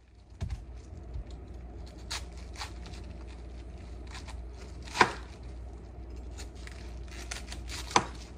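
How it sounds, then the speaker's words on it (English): A knife cuts through a cabbage in halves and quarters on a board in a home kitchen, giving a few scattered light chops with two sharper thuds standing out against a quiet background hum. "we're going to cut it in half and cut it into quarters"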